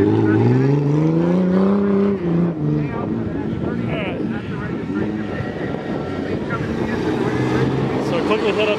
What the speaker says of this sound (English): so watch some of the cars come back out